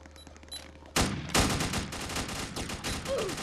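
Gunfire in a Roblox prison riot game: after a quiet start, a loud burst erupts into rapid, continuous automatic shots that rattle on steadily to the end.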